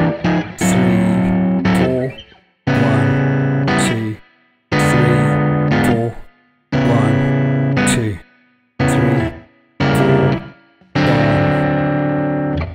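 Blues chord progression on electric guitar using diminished seventh passing chords, played through an effects unit with distortion and chorus; loud strummed chords in six or seven phrases separated by short pauses.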